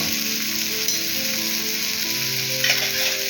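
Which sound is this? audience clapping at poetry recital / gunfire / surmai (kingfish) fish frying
surmai (kingfish) fish frying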